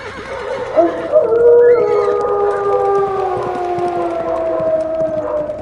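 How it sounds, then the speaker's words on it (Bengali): Long, loud wolf howls rise and hold, overlapping in drawn-out wavering tones, with a more distant whine of canines beneath them. "দূরে কুকুরের অস্থির চিৎকার আর নেকড়ের লোলুপ গর্জন শোনা যেতে লাগলো"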